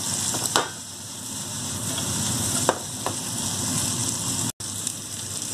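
Onion fries in a pan, a continuous crackling sizzle with a few sharp pops and spatters and a brief dropout near the end.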